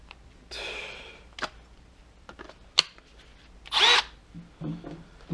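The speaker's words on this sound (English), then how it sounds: "This stupid ass drill." Brief bursts of a power drill whirring, interspersed with clicks and handling noises, close by and short, while modifying a 1991 Oldsmobile Quad 442 suspension strut for a Koni insert.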